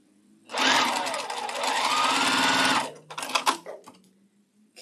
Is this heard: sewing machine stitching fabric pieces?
yes